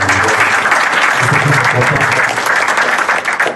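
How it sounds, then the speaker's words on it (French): An audience at a literary book presentation applauds for the author, a loud, continuous spread of clapping with a low voice murmuring underneath at times. "on va applaudir quand même pour lui pour ça"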